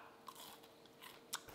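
Homemade shrimp crackers made from caught sea shrimp being bitten and chewed, with a few faint crisp crunches, one sharper bite near the end, close and quiet with no talking.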